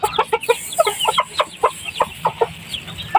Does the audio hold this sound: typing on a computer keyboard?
no